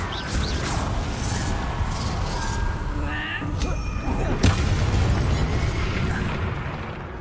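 A Confringo blasting spell detonates in Hogwarts Legacy, a loud booming explosion with crashing debris and a whooshing burst over a dense, rumbling game soundscape.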